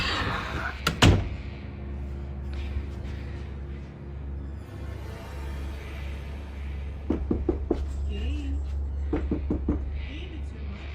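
Heavy knocks and bangs on a door, a couple of loud thuds early then a cluster of sharp rapid knocks later, over a low steady hum with faint voices.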